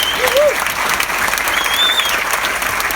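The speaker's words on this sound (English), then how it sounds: "A round of applause for Scott McDermott and Adam Fox" Dense, continuous crowd applause for honored crew members at a gathering, loud and close, with a couple of brief whistles rising over the clapping throughout.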